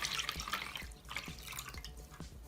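Starch water from a glass pours into a bowl, giving a quiet trickle of splashing liquid with soft drips, heard close and faint without talk.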